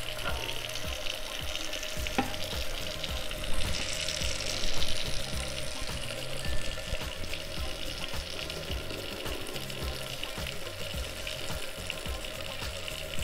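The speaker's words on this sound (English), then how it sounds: "The way I like to do it is just use a lid and kind of set it off to the side, and I drain" Grease being tipped out of a pan of cooked ground beef, held back with a lid: ongoing hissing sizzle and trickling liquid with a few faint metal clinks, close up and without speech.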